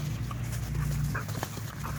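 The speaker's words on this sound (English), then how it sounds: "Crazy dogs." Several dogs romp together outdoors, with scuffling, soft yips and whimpers, and thudding paws under a constant low rumble of background noise, close and moderately loud throughout.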